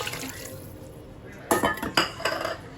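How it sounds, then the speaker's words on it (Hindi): Water poured from a filled vessel into a pot of masala on a home gas stove, a clattering splash with metal clinks that swells in two or three bursts, close and fairly loud, with no talk. "इसमें अब मैं डाल रही हूँ पानी"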